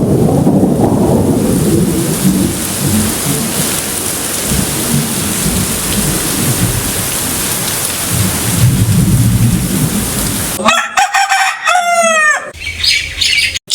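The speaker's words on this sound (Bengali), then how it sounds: "সারা রাত বৃষ্টি হয়।" Heavy rain pours continuously in a cartoon night scene while loud rolls of thunder rumble through it, then the storm cuts off abruptly and a few bright bird-like chirps follow.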